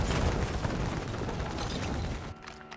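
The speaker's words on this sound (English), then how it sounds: "I heard gunshots." A dense burst of rapid gunfire from Call of Duty, crackling continuously for about two seconds before cutting off abruptly into quiet.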